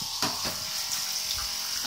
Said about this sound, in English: it's priming, and there we go, water everywhere, pump working fine